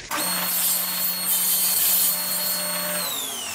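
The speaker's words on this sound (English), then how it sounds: "The first pass past the blade will trim the end of this block ever so slightly" A saw blade trims the end of a wooden hold-down block on a shim-cutting fixture: a steady, loud whine that starts abruptly, holds for about three seconds, then fades as the blade winds down, with no talking.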